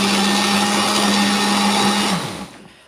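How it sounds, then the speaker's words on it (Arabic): An electric blender whirs loudly and steadily as it purees boiled lentils, a smooth high-pitched motor hum that winds down and fades out during the last second. "وبعدين حطيته كده في الخلاط زي ما انتم شايفين. هنقفل بقى الخلاط"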